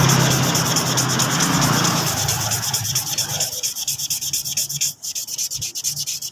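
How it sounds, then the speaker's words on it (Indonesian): Hand sanding the painted surface of a motorcycle part, a steady dense rasping scrub that carries on continuously and fairly close, then changes into shorter rhythmic strokes partway through, with no talking. "Nah, kita gosok saja seperti ini."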